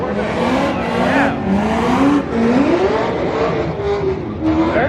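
A 6.2-liter Corvette V8 revs loudly at a track, pitch climbing and falling through repeated pulls and gear changes, close and dominant throughout.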